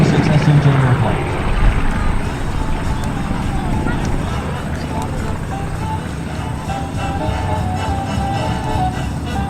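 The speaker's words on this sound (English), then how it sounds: "T-6 SNJ airplanes." Propeller aircraft drone steadily from T-6 SNJ trainers flying at a 2017 Northeastern Pennsylvania airshow, a continuous loud engine roar mixed with a narrator's voice over the crowd area.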